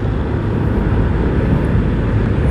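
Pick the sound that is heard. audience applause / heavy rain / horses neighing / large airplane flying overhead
large airplane flying overhead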